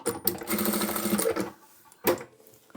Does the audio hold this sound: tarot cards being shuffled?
no